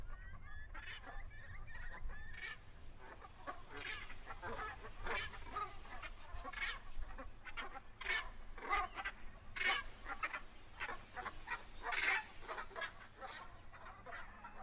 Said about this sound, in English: Blackwater estuary is nationally significant for Brent geese.